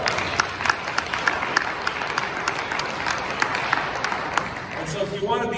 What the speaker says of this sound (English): give that applause to God.